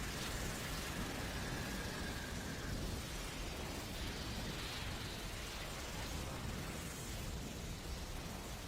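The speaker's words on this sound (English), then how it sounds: "Fire style! Fireball jutsu!" A fire-style fireball jutsu blast from the Naruto anime roars as a sustained, dense whoosh of flame, loud and steady throughout with no talk.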